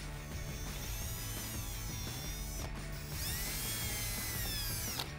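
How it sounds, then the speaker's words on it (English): A power drill with a 1/8 inch bit whines and grinds continuously as it bores holes in rocker panels on a Camaro, pitch rising and dipping with brief pauses between bursts. "we can take a 1/8 inch drill bit"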